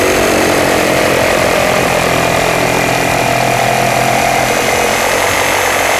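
A DeWALT DCS382N cordless reciprocating saw cuts steadily and loudly, a dense continuous buzzing rasp with no talking over it.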